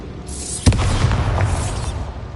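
A Bombarda spell from Hogwarts Legacy goes off with a single loud boom that cracks sharply and then rolls into a long, dense rumble over steady ambient noise.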